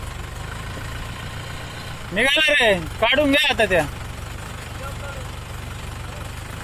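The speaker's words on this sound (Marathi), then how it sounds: "निघाला मित्रांनो ट्रॅक्टर" A tractor engine rumbles steadily throughout in a farm field, with two people talking loudly over it partway through.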